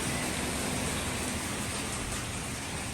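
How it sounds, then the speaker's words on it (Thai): Heavy rain pours down as a steady, dense hiss that stays constant and loud throughout, with no voices over it. "ฝนตกไปเลยโอ้ฝนตกพีเนาะ"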